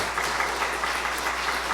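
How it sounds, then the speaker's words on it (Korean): A church congregation applauds to encourage seven newly installed deaconesses, a steady wash of many hands clapping at a moderate level, continuous and without talk over it. "이분들에게 큰 힘을 실어드리는 의미에서 우리 뜨겁게 한번 박수로 격려해 주시기 바랍니다."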